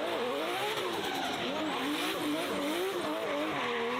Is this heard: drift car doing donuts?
yes